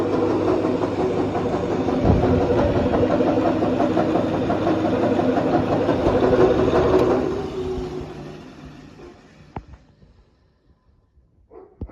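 Electric grain winnowing machine motor running on mains power, a steady mid-pitched hum that winds down and fades out after about seven seconds, followed by a few faint clicks and knocks.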